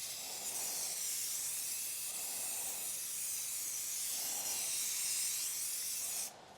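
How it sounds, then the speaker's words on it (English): An aerosol can sprays paint onto the top of a ceiling fan in one long, steady, close hiss that stops abruptly at the end. "I'm spraying the top of the fan, but the plastic keeps touching it."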